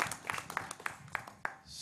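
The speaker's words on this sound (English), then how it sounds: "If we can give the group an applause for all the hard work." Scattered clapping from a small audience at an advisory group meeting, a thin, faint patter of separate claps over a couple of seconds.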